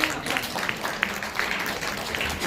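A ceremony audience applauds a Korean lawmaker receiving a National Assembly audit award, making a steady wash of clapping at moderate loudness, with faint speech mixed in.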